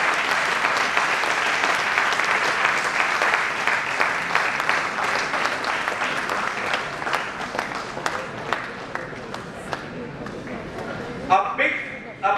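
Audience applause at an annual day college celebration, steady dense clapping that holds for most of the stretch and then thins out toward the end, with a few scattered claps lingering.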